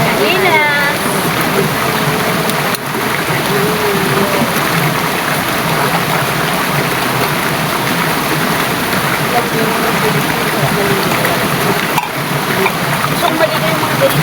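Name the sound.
river stream flowing at a riverside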